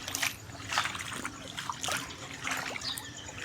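Floodwater trickles and dribbles in the flooded space beneath a house after heavy rain, a steady low wet patter with scattered small splashes, fairly faint and without talk.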